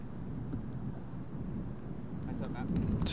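Strong gusting wind buffets the microphone on a golf course during a charity tournament round, a continuous low rumbling roar that swells slightly toward the end.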